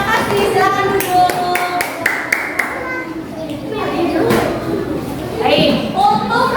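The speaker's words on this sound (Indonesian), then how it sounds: "Tepuk tangan untuk semua kelompok." A group of third-grade elementary pupils applauds in the classroom with a quick burst of sharp hand claps, mixed with children's chatter and voices that carry on after the clapping thins out.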